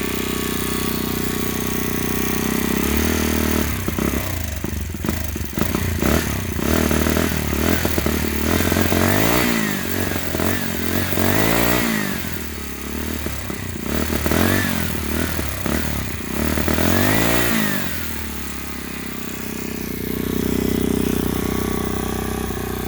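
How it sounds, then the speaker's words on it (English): A Phantom Ghost 26 motorbike engine runs loud and close, its throttle blipped repeatedly so the revs climb and fall in several rising sweeps over a steady idle. "Let's see what she sounds like with a little throttle."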